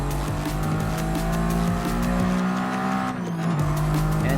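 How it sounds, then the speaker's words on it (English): Car tires skid and squeal through a power slide in Gran Turismo Sport racing gameplay, a sustained screech over a droning engine with a brief dip near the end before the slide resumes, no talk. "Just do a little bit more power slide."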